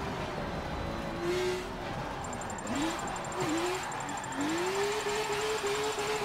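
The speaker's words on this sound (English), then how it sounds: "I wish I could put this motor in another car. This thing sounds amazing." A BMW race car engine in Forza 7, heard from the cockpit, drones steadily and continuously, its pitch dipping and then climbing as the revs rise toward the end.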